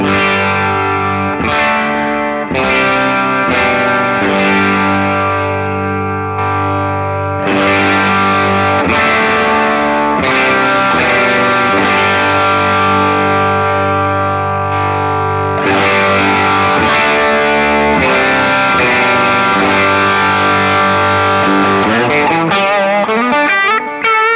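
Electric guitar played through an HX Stomp Nano into one amp with a distortion pedal, moving from clean tone into driven settings. Strummed chords ring and sustain continuously at steady loudness, with no talking.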